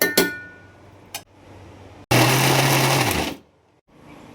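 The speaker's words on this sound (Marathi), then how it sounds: "गार झाल्यानंतर त्याची पेस्ट करून घ्यायची बघा आपण मिक्सरमध्ये घालून" A kitchen mixer grinder blitzes cooled cooked masala for a mutton curry into paste in one loud motor burst of about a second, preceded by a few clinks of the jar.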